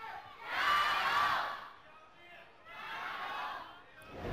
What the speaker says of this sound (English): There's actually some BLG chants in the crowd.